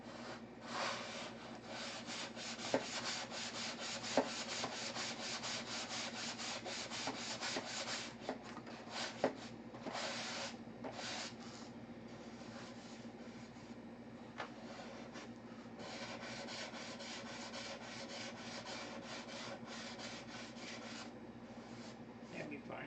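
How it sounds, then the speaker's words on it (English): Wood is sanded by hand in long, repeated rasping strokes, a steady scratchy rubbing close by with occasional louder scrapes and brief pauses between passes. "Take some more sanding is all. Lots of sanding."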